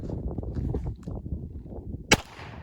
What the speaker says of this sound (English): This is my little 22 Derringer, and I can't wait to see her shoot it.